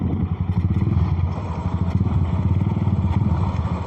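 A motorcycle engine runs close by at a Philippine carwash with a steady, rapid putter and a regular pulsing beat, loud throughout.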